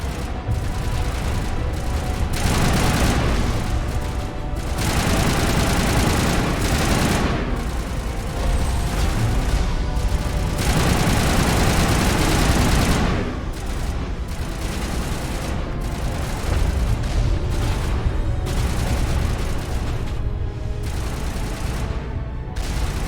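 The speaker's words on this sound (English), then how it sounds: "Turrets." Turrets in the Mass Effect game fire sustained, loud bursts of gunfire with heavy booms, rolling almost continuously with a few short lulls and no talk.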